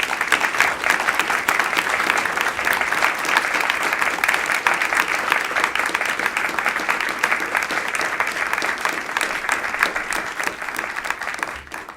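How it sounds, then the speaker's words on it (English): Sustained applause from an audience for the panelists at a public science talk on water in the solar system, dense steady clapping throughout at even loudness. "please give a round of applause to our panelists today"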